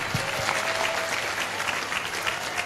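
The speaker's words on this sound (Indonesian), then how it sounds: "Tepuk tangan Pak Zen." An audience at a Ramadan gathering applauds Pak Zen, a dense and even round of clapping from many hands that carries steadily at moderate volume.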